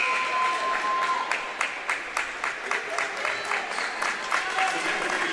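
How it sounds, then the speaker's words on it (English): Basketball fans applauding in a gym during a girls' state final game, steady crowd clapping with some sharper individual claps throughout, fairly loud and continuous with faint background murmur. "Pima fans giving Grant an applause."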